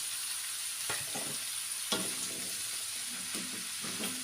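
Fresh shrimp and Chinese kale stir-fry in a hot pan, a continuous sizzle of oil under a few sharp scrapes and clatters of the spatula turning the food, with no talking.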